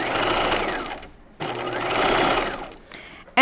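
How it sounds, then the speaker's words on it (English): Sewing machine stitching two taut layers of fabric near a seam line, running in two loud, steady bursts separated by a short pause, with a sharp noise at the very end. "And I'm stitching about 1/8 of an inch away from the seam line."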